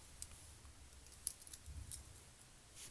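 Scissors snip through unboxing packaging on items bought at Target: a few faint, quick cuts scattered over a quiet background.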